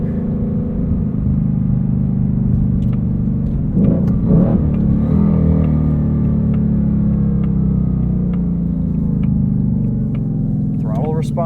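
A Fox body car's engine with dual intakes and dual throttle bodies revs up hard, a loud steady rumbling whir that swells and climbs, with a person's voice talking over it.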